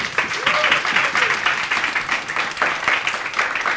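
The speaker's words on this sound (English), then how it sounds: "Give him a round of applause." Audience applause at a campus writing center event, a steady wash of clapping lasting several seconds with faint voices mixed in.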